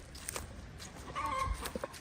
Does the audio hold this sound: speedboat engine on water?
no